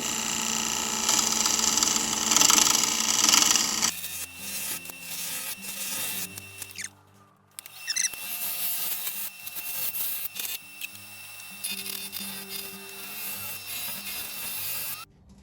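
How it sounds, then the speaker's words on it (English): A woodturning tool cuts a taper into spinning wood that has cracks and insect holes. It gives a steady close rasping rub with a brief break midway, then resumes evenly, with no voices. "I'm going to start cutting in for my taper"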